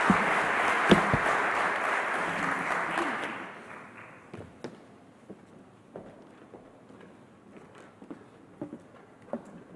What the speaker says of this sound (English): Let's give a very strong round of applause to the team